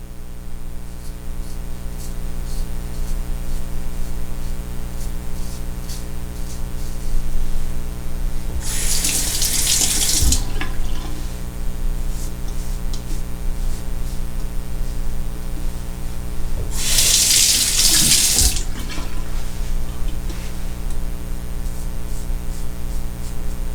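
A bathroom tap runs in two separate bursts of rushing water while a razor blade is rinsed clean of beard hair, each lasting about two seconds over a steady electrical hum.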